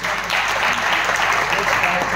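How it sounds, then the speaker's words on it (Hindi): Clapping from a crowd at a training meeting, steady and fairly loud for a couple of seconds, with voices mixed in. "ताली बजाइए उनके लिए।"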